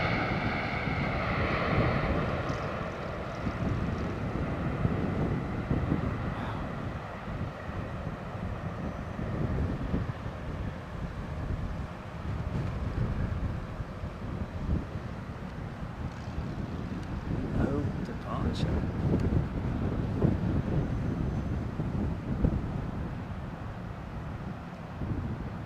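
Gusty wind batters the microphone in blustery conditions as aircraft touch down, a constant low roar and rumble with surging swells that last the whole stretch.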